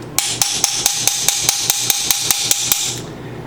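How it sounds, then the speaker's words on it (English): Eleven evenly spaced metallic taps of a file tapping a fire piston in ring out at a steady rhythm, close and sharp, each with a short ringing tail. "I was just using my file and taking it and slowly tapping it in like that."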